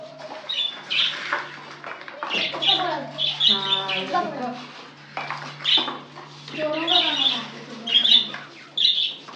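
Pet parrots, including a mango parrot and lovebirds, squawk and screech repeatedly at close range while being given feed in dishes, with someone talking over the birds and light clatter of pots.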